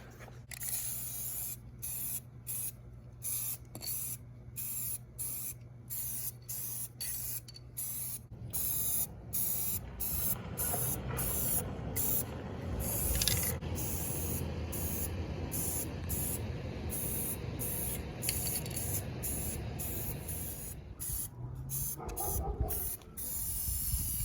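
Aerosol spray cans of rust preventative primer and Rust-Oleum high performance enamel being sprayed, repeated short hissing bursts with gaps, then a longer continuous spray, fairly close.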